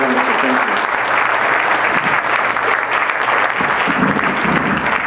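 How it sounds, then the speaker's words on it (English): A crowd at a community meeting on geothermal issues in Puna, Hawaii gives loud, continuous applause, a thick wash of clapping with faint murmuring underneath, steady throughout. "give yourself a great big round of applause for that"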